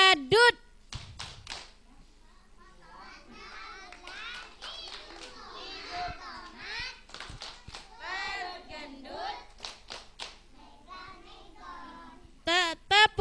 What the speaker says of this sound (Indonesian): Sekarang coba bersama-sama tepuk badut.